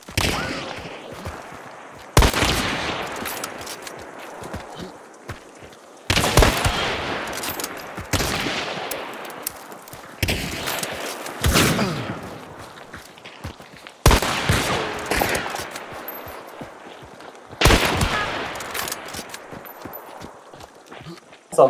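Shotgun blasts from Hunt: Showdown on the Colorado map, six loud, sharp booms spaced a few seconds apart. Each one rings out and decays under a background of game ambience and voices.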